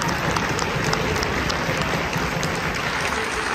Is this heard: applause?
yes